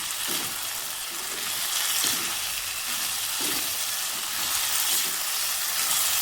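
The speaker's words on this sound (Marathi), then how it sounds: "चांगलं फ्राय करून द्यायचं ह्याला" Capsicum and potato mixed vegetables fry in a pan on a gas stove, giving a steady, close, even sizzle and hiss that runs unbroken throughout, with faint soft stirring knocks.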